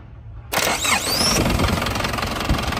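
A 2012 Isuzu D-Max diesel engine cranks briefly and catches with a sudden loud start, then settles into a steady, close idle.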